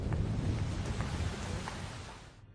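Steady rain falls with low rumbling thunder in a dramatic film scene, a dense hiss over deep rolling bass that fades out at the end.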